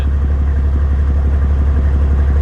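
Heavy wrecker truck engine idling, a deep steady low rumble with an even pulsing beat, close and loud throughout with no talk.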